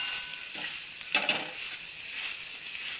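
Spiced vegetable masala stirred with butter in a pan for masala pav makes a close, steady frying sizzle with occasional louder spoon scrapes and no voices.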